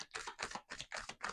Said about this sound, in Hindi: अच्छे से शफल कर लेते हैं हम अपने कार्ड्स को